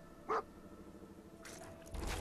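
A dog in Fallout 4 gives one short, sharp bark against a quiet game ambience, and a burst of broadband noise follows near the end.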